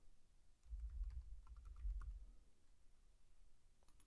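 Keys clack on a computer keyboard, a short quiet burst of several taps clustered over about two seconds, then near silence.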